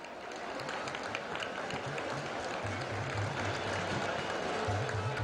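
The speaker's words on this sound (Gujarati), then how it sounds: "આવો આ ક્ષણને આપણે તાળીઓથી વધાવીએ." A crowd at an event at GMDC Ground applauds to welcome the Prime Minister, with sustained, dense clapping that grows fuller over several seconds, and a faint voice underneath.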